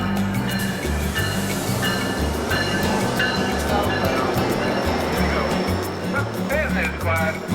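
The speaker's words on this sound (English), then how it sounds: "This time climbing on a train to head south." Amtrak Surfliner train standing at a small station depot: a loud, constant rumble of the idling train with rhythmic low throbbing, brief squealing tones and people talking under it.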